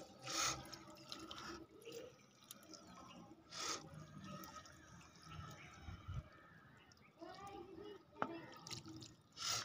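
Water poured carefully from above into a potted coriander plant, with soft splashing and dripping in uneven bursts, fairly quiet and close, over background movement.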